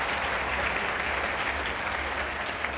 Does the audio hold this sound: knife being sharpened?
no